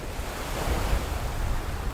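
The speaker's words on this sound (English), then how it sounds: "Sitting at the beach, listening to the waves," Ocean surf washes onto a beach in a soft, continuous rush, with wind buffeting the microphone and a gentle swell in loudness over two seconds.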